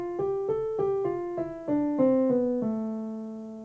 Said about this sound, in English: we have what we call a minor scale,